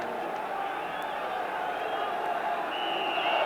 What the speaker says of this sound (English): So a big crowd and a big atmosphere then